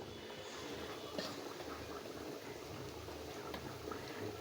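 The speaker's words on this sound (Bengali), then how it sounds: "পেঁয়াজগুলো আমি ভাইজা নিতেছি" Onions frying in hot oil in a home kitchen, a steady soft sizzle and bubbling crackle with occasional small pops, fairly quiet and continuous.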